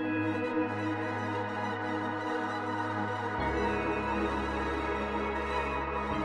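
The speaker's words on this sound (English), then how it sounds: "we're throwing the portal preset onto this arp, which makes it sound like this" A synth arpeggio in FL Studio run through the Portal effect preset gives a dense, shimmering, sustained wash of layered tones, with the low end shifting partway through, steady and moderately loud without voices.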